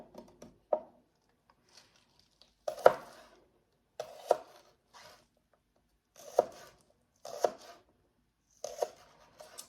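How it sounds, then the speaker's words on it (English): A knife cutting the roots off onions on a cutting board, six or seven separate crisp chops spaced a second or two apart, close and quiet, with no talking. "kind of cut off the roots of these onions here"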